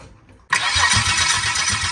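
A 1984 Holden VK Vacationer wagon engine fires up after a moment of near silence. It catches quickly and settles into a steady, close idle.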